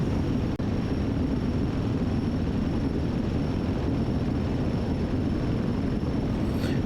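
A light aircraft engine drones steadily while cruising at about 5,500 feet, a loud continuous low rumble with wind roar filling the cabin, close and unbroken apart from one brief click near the start.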